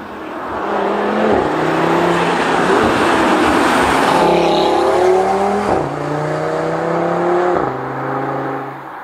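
A 2017 Audi TT RS with a sports exhaust passes on a road, a loud close roar with several rising gear pulls and sharp shift breaks, traffic-like rush throughout.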